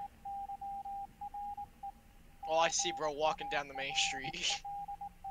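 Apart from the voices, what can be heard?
Morse code beeps in video game Escape the Backrooms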